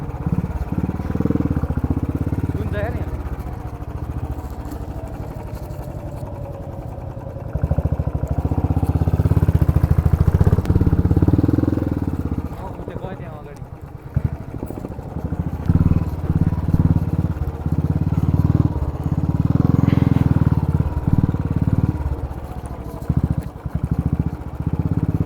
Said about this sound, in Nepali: बाटो चाहिँ मरद छ मरद मेरो स्कुटर चिप्ला छ है